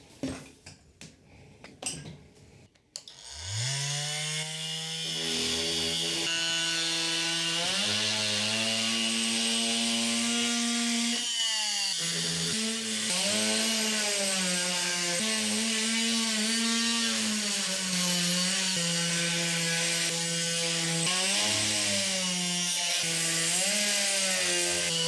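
AliExpress oscillating multi-tool cutting into wood, a loud steady whine starting after a few seconds of clatter and holding for over twenty seconds, its pitch dipping and rising as the blade loads.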